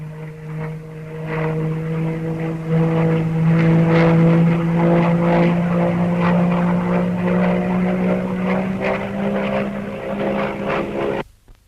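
Hawker Tempest fighter aircraft engine droning steadily and loudly nearby, a strong propeller hum with slowly rising pitch that holds for about eleven seconds before cutting off abruptly.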